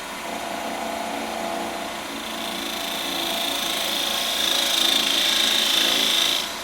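A lathe cuts an A10 Warthog 30mm round. A steady, close machining noise with a thin whine grows gradually louder as the cut goes on.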